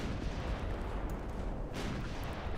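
Enemy cruiser guns firing in the naval combat game Ultimate Admiral: Dreadnoughts, a steady rumbling wash of distant artillery with dense low booms throughout, no one talking.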